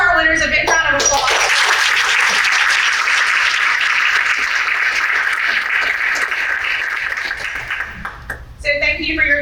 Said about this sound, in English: let's give all of our winners a big round of applause